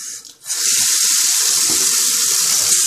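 A bathroom tap runs steadily into the sink for a post-shave rinse. After a brief quiet moment the water starts, a loud, continuous hiss close by, with no voices.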